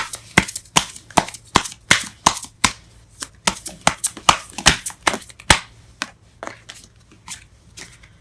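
Tarot cards being shuffled and pulled for a Taurus love reading, a run of sharp riffling snaps and flicks in quick irregular bursts, close and crisp, with a faint low hum underneath and no talking.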